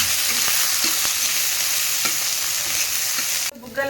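Sweet corn kernels frying in hot oil until crisp and puffed, a loud, dense, continuous sizzle with a few soft stirring taps. The sizzle cuts off abruptly near the end.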